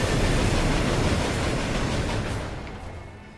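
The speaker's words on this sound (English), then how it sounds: "The train is really fucking loud and annoying." A train rushing past in the video game Murdered: Soul Suspect, a loud dense roar of rumbling wheels and rattling cars that fades gradually toward the end, with no talk.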